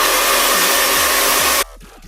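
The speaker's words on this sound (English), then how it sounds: "And of course I take my trusty blow dryer." A blow dryer roars steadily at close range over a sewn-in curly lace frontal wig for over a second and a half, then cuts off abruptly, leaving quiet room sound.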